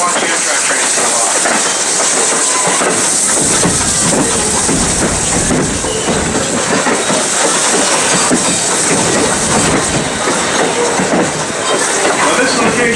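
A Strasburg Railroad train runs along the tracks near Paradise, Pennsylvania, giving a loud, continuous rumble with hiss and rattling wheel noise, close and steady for the whole stretch.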